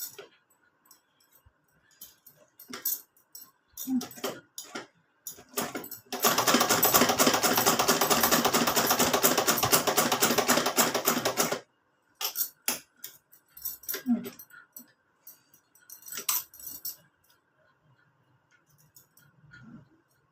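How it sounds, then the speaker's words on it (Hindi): Sewing a stitch into a doll's small cloth cushion: about five seconds of continuous fast machine-like stitching whirr in the middle, framed by scattered handling clicks, rustles and brief voice fragments. "मैं एक सिलाई और कोशिश करूँगी कि इधर दबा दूँ"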